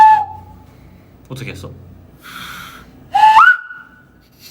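A bright whistled note slides upward near the end, with another brief whistle at the start, a breathy sound and a short spoken question between them.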